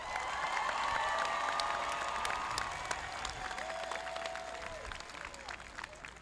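An audience at a school graduation ceremony claps steadily in a large hall, a dense wash of applause that stays loud and then slowly tapers, with no clear voices over it.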